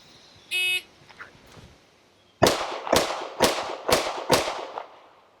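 Five pistol shots fired in fairly quick succession from a modified Isosceles stance with a thumbs-forward grip, each a sharp loud crack, evenly spaced after a short electronic beep and quiet pause.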